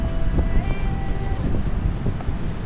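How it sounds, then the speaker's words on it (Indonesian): Wind buffets an Akaso Brave 8 action camera microphone on a busy street in Semarang's old town on a Sunday, a steady low rumble throughout with faint traffic beneath. "Kena angin-angin."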